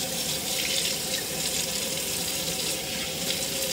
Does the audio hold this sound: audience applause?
no